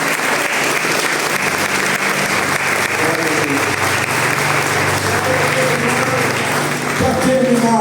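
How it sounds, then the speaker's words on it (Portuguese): A church congregation claps steadily and loudly throughout, a dense sustained applause with voices and music faintly mixed in beneath. "Olha, então aplauda o Senhor pela tua vida."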